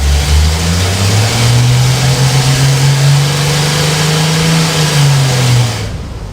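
A turbocharged Ford 300 4.9L engine pulls hard against a dyno brake: a loud, sustained roar that climbs in pitch, holds, then drops away sharply near the end.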